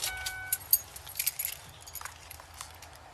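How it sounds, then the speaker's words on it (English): Car keys jangling as they are handed over inside a car, with a few bright metallic rattles and clinks over a low engine-off cabin hum, close by and without speech. "Turn off the car and pass me the keys, please."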